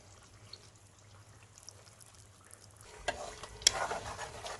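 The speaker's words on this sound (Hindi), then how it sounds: "तो अब हम इसके अंदर क्रीम ऐड करेंगे।" Cream poured into black pepper chicken karahi and stirred in, a faint quiet sizzle at first, then louder wet stirring and scraping with a sharp clink near the end.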